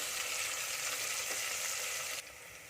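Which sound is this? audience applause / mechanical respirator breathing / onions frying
onions frying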